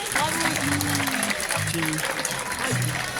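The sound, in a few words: audience applause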